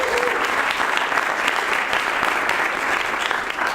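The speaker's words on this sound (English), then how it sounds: "Let's give them a nice round of applause." Audience at a college elevator pitch competition applauding the finalists, a lively, full round of clapping from a hall crowd that continues steadily throughout, with faint voices underneath.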